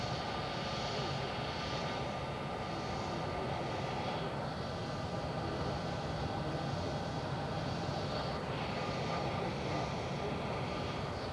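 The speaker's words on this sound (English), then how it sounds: "We have this overhead shot of Shepherd 1 preparing to take off." An airplane sits at Miami International Airport preparing for takeoff, its engines a steady, distant broadband roar and whine that holds evenly throughout.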